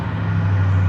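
A Ford engine rumbles steadily right after firing up, a loud, close, low idle drone holding even for under a second with no talking.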